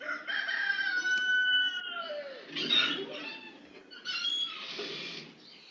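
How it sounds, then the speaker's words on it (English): A rooster crows outdoors in the distance during a home cooking lesson, with a long drawn-out call followed by shorter bursts, moderately faint against room background. "You hear the chicken crowing?"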